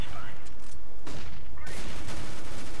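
Rapid P90 submachine gun fire in Counter-Strike: Global Offensive, loud dense bursts of gunshots packed together, with game effects and a voice over the top.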